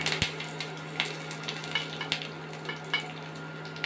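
Steady frying sizzle with soft crackles and pops, as spices hit hot mustard oil in a pan for a tempering; no talking.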